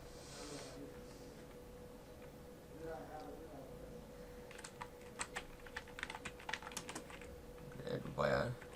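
Computer keyboard typing a buyer review comment, a quick burst of close key clicks in the second half with brief pauses between words, faint and near, following a stretch of quiet room noise.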